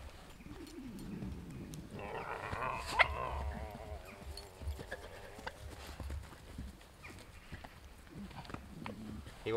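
Dogs playing outdoors in the woods give a few short barks and yelps, mostly early on, mixed with rustling and movement nearby; a voice talks faintly at times.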